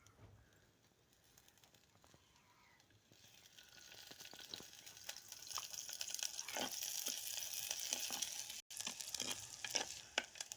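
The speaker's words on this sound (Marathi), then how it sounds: "आपण त्याच्यामध्ये तेल ओतून घेऊ म्हणजे मग मस्तपैकी करपून निघल" Onion frying in oil in a pan for a fish curry, a faint sizzle that swells after a few seconds into a steady, closer crackle with occasional stirring clicks.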